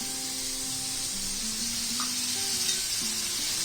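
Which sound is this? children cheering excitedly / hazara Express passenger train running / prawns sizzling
prawns sizzling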